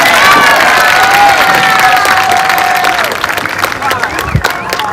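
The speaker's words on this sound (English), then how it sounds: "Let's give her one more round of applause." A crowd at the Cahokia Heights High School graduation applauds and cheers loudly, with whoops and shouts over dense clapping that gradually settles.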